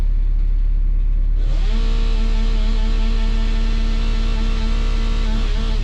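A small old Husqvarna chainsaw being run by a woodsman, heard as a steady loud engine drone that revs up sharply and then holds a high, sustained buzzing pitch, close by.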